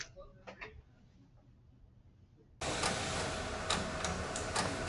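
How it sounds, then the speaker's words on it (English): A Ri4000 DTF printer printing a gang sheet starts up after a quieter stretch of faint clicks, then runs loudly and steadily with repeated mechanical ticks and clacks from its moving carriage. "let's go to the printer and print this out."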